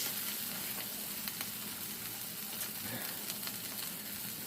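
Pork chop searing at high heat in a hot pan, a constant crackling sizzle with scattered pops, moderately close and fairly quiet, with no one speaking.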